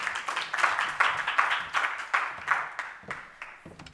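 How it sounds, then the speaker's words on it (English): An audience at a stakeholder roadshow in Gqeberha applauds a speaker, the crowd's clapping coming in a clear rhythmic beat of sharp claps that thins out and fades toward the end. "please give her a round of applause"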